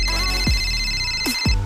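A phone ringtone plays loudly and alone, a steady electronic tone pattern with a couple of quick sweeping chirps, lasting under two seconds with no talk over it.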